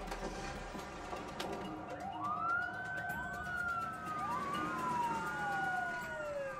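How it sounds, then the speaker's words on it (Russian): An emergency siren, part of a fire alarm response to smoke over Henry Coe State Park in Northern California, wails in rising and falling sweeps over a low background hum, heard at a moderate distance. "Пожарная тревога."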